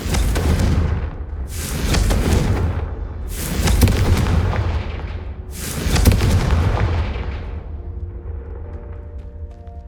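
A series of four heavy blasting-curse explosions from the Hogwarts Legacy video game, evenly spaced booming bursts with long rumbling tails, loud and close, followed by a quieter ringing tail.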